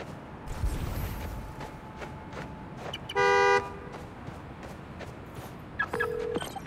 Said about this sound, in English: The more annoying the horn gets, the closer I am.